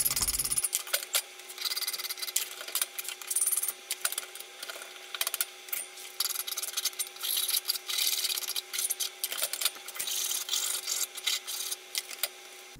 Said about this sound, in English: I'll deburr it with a file and set it aside for the moment.